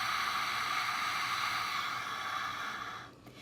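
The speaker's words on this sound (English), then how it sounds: "on the exhale you'll breathe out as if you have a pane of glass in front of you and you're trying to fog that glass with your breath" A long, steady breathy hiss of a voo breath exhale, air pushed out through an open mouth as if fogging a pane of glass, close and even, fading out at the end.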